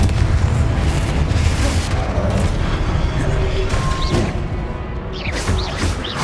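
Sustained rumbling blast from the Confringo spell in the fantasy game Hogwarts Legacy, a dense, loud explosive roar filling the scene, with faint whooshes and crackles near the end.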